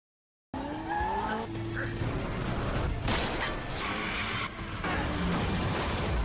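Cars racing in a chase, with sharp tire squeals and skids over roaring engines, loud and close, the squeals sweeping in pitch before a dense wash of engine noise.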